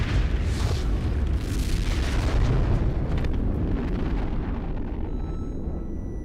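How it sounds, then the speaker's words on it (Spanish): The Apple II nuclear test detonation of May 1955 roars as a sustained, heavy rumbling blast that stays loud for several seconds before slowly easing, with no voices. "Sobrevivió a una detonación conocida como Apple II en mayo de"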